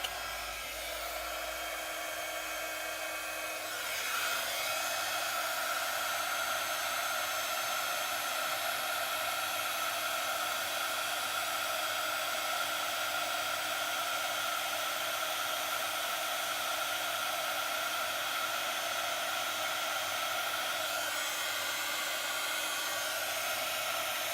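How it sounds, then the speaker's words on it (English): A heat gun used for card making and embossing runs steadily for a long stretch, a constant whooshing hiss of blown air that rises slightly in strength after a few seconds and stays even, with no talking. "I'm going to heat my heat gun up and watch the magic."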